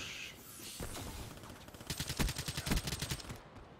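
Rapid bursts of gunfire in Black Ops 3 multiplayer, loud and close, building to a dense run of cracking shots in the second half.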